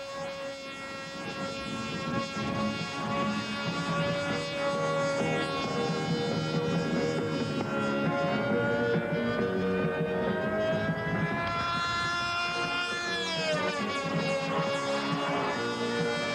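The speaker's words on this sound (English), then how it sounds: "This crazy little stunt plane will do every maneuver in the book, and a few more." A radio-controlled stunt model plane performs aerobatic maneuvers at an expo, its small engine a steady, continuous whine that rises and falls in pitch as it swoops, loud and unbroken throughout.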